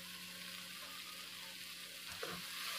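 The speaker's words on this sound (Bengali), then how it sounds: "2 মিনিট মতো কষাবো।" Mixed vegetables and mushrooms stir-fried in a pan for a Chinese-style dish, a soft continuous hiss of frying with a few faint stirring scrapes, quiet and close, no voices.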